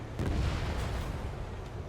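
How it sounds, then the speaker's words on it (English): A missile launches and explodes in the jet combat video game Ace Combat 7, a loud, rumbling roar and blast that fills two seconds with deep, steady noise. "Missile away."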